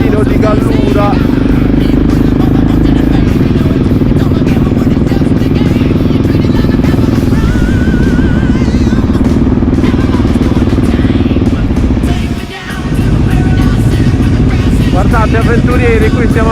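Motorcycle engines rumble continuously at a biker festival on roads through Gallura vineyards in Sardinia, a loud, steady drone of several bikes with crowd babble mixed in and a brief dip near the end.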